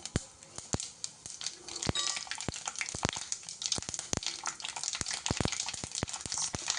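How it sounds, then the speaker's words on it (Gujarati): Mustard seeds and cumin crackle in hot oil over a high gas flame, sharp irregular pops and spits scattered over a steady close sizzle, with no voices. "આપણું તેલ ગરમ થઈ ગયું છે. એમાં રાઈ આપણે એડ કરશું"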